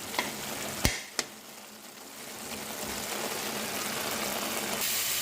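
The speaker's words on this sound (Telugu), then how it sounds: "ఫ్రై రెడీ అయిపోయింది స్టవ్ ఆపేసి" Chanchala leafy greens fry in a pan with a dense, steady sizzle and hiss, broken early by two sharp clinks of a utensil against the pan, with no talking.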